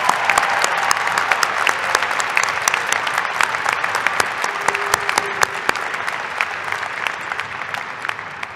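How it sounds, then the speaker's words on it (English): Audience applause fills a commencement ceremony hall for graduates and distinguished alumni, a steady dense clapping that continues at an even level throughout with no voices over it. "Let's give them all a huge round of applause."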